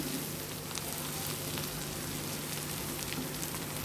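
Capsicum egg fry sizzles steadily in a pan, a dense, even crackling hiss like light rain that stays constant and close throughout, with no voices.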